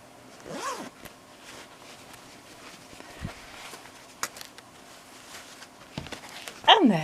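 A zip pocket on a handmade shoulder bag being zipped open and shut, a quick rasping run near the start and another sharp, louder pull at the end, with soft handling rustles between.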